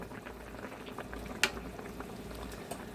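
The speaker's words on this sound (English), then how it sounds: "So I boil this rice for about 15-20 minutes." Rice boils gently in a pot of water on the stove, a soft continuous bubbling simmer, quiet and close, with one small sharp click partway through.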